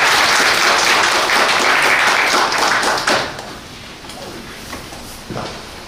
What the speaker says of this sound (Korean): 큰 박수를 맞아주십시오